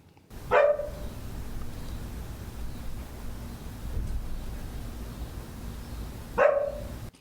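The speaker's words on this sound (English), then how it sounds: "I heard the dog" A dog barks outdoors, one bark near the start and another about six seconds later, with steady quiet background noise between them.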